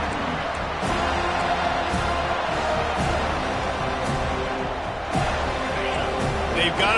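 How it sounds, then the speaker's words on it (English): A football stadium crowd roars loudly and steadily throughout, a dense, sustained wall of cheering with occasional swells, as a play-by-play commentator talks over it. "This crowd, full throat, splitting the eardrums and letting them know it's going to be a long day."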